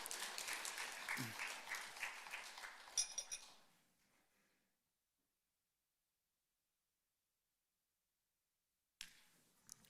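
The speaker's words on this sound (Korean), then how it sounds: "박수 한번 칠까요?" A small church congregation claps at a year-end worship gathering, a short burst of applause that dies away into silence, followed later by a brief faint rustle.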